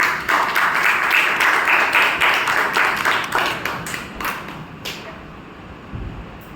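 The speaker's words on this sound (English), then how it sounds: "with a big round of applause, please welcome Toastmaster Dewas from the team" Audience at a Toastmasters meeting giving a round of applause to welcome the Toastmaster, fairly close claps that start strong and thin out toward the end, with a few isolated taps.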